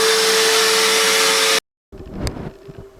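A Hoover vacuum cleaner draws air through a car's diesel particulate filter, a loud steady roar with a whine that cuts off abruptly, then a short quieter burst of rushing suction.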